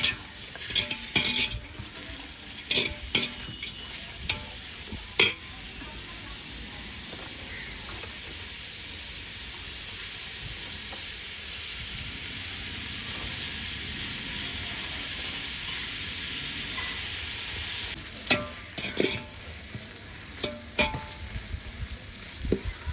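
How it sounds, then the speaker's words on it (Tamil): Chopped onions sautéing in a pan for prawn biryani, a steady close sizzle and hiss with repeated stirring clatter and scrapes of a spoon against the pot throughout. "இப்போ நல்லா வதக்கிக்கலாம் வெங்காயத்தை."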